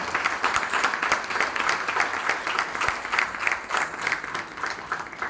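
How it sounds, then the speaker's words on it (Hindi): An audience at an Anti Corruption Foundation of India event applauds the dhol drummers: dense, sustained clapping from a large crowd that holds steady and loud throughout, with no voices standing out. "मैं चाहता हूं कि जो हमारे लिए ढोल बजाते हैं, हमें ब्लेसिंग देते हैं, जितनी इज्जत आपने दी है मुझे उससे 10 गुना ताली उन ढोल वालों के लिए बजाइए"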